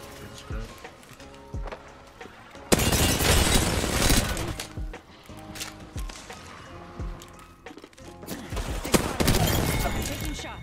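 Gunfire in Apex Legends during a firefight, with bursts and rapid shots over several seconds and loud dense stretches mixed with game effects, while a player talks over it.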